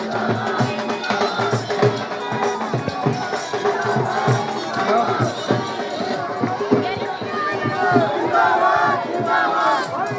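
A dense, loud crowd gathered at an election campaign welcome event in Haryana fills the scene with continuous shouting, chanting and babble, voices overlapping throughout with rising bursts of cheering.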